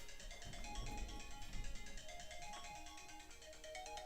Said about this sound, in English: Fun ringtone, right?